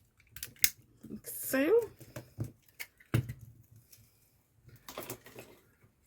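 Scissors snipping through a recycled Christmas card, a few short close cuts and clicks scattered between quiet talk and handling noises.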